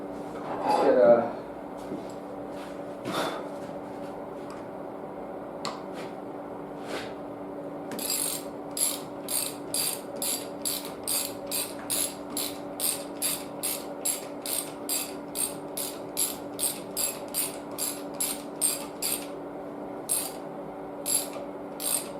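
A ratchet mechanism tightening a strap on a garage storage rack for rims and tires, producing a long run of rapid, evenly spaced clicks after some scattered clunks, close, over a steady background hum.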